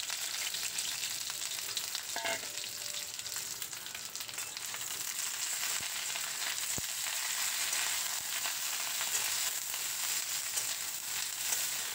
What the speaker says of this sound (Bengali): তেলটা গরম হয়ে গেলে কেটে রাখা ভেন্ডিগুলো এর মধ্যে দিয়ে ভেন্ডিগুলোকে ভেজে নেব